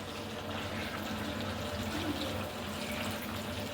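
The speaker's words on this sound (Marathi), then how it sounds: "तर आपण थोडंसंच पाणी ह्यात टाकूया." Water is poured into a pot of cooking mutton, a steady close splashing and running-liquid sound that continues evenly, with faint low background noise beneath.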